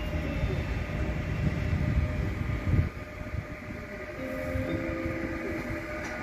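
Regional RE 14 train on the Nürnberg–Fürth line pulling into a station platform, a steady rumbling roll with a brief louder surge midway, then continued wheel and brake noise, no talk.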